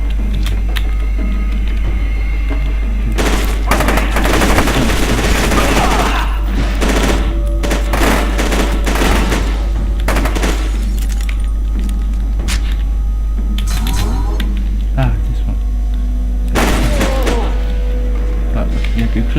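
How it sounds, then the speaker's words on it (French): Explosions and bursts of automatic gunfire in the video game FEAR 2, loud sharp clusters of shots and booms over a constant low rumble, with someone talking at times. "Quelque chose qui a explosé là"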